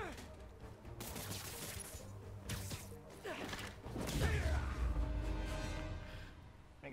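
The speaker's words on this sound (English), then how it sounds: "Stop shooting." Gunfire rattles through a Marvel's Spider-Man 2 fight in a sand-covered city as a steady run of shots under heavy combat noise, thuds and whooshes, while a player talks over the action.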